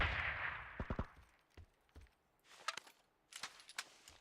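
Light machine gun fire in a video game, a few sharp separated shots early on followed by two short rattling bursts, moderately loud with quiet gaps between.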